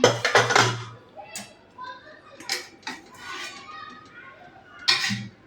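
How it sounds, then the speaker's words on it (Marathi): A pressure cooker holding cooked dal is opened in a home kitchen, with a quick cluster of metallic clanks and rattles at the start, lighter handling noises and faint voices in between, and another sharp clatter near the end. "आता कुकर थंड झालेला आहे, आपण खोलून घेऊया."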